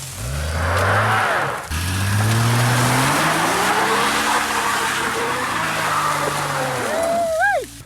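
A truck engine revs hard and drones loudly up close as it drives off road, pitch rising and falling with throttle, briefly cutting out then surging again, ending in a high whining rev.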